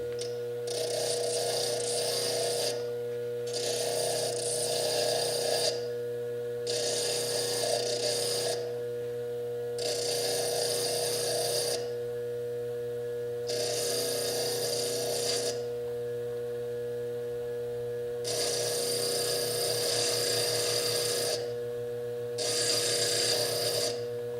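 Fire agate being cobbed on a bench lathe gives repeated bursts of harsh grinding and rasping, each lasting a few seconds and separated by short pauses, over a steady motor hum.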